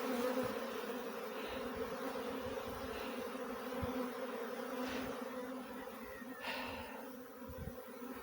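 A captured honeybee swarm hums in a dense, steady drone, close and moderately loud, with individual bees buzzing past now and then over the continuous hum, no voices.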